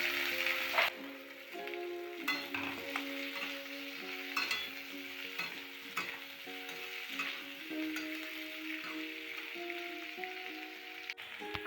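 Salted potatoes fry in a pan with a steady, close sizzle, broken by occasional clinks and scrapes of stirring, and no voices.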